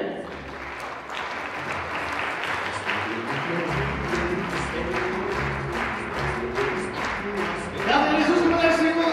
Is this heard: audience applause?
yes